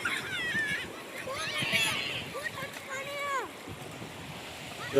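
Waves washing in on the seashore at Nishkalank Mahadev, a steady broad rush under wind noise on the microphone, while people nearby talk and call out over the surf.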